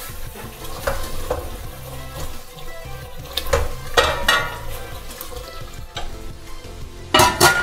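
Kasuri methi being stirred into a dish in a kadhai, with repeated spoon scrapes and clatters over a steady low sizzle, ending in a louder burst of scraping.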